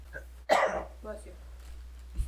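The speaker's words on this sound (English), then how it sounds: "That was a cough" A single sharp, close cough bursts out between quieter murmurs of talk.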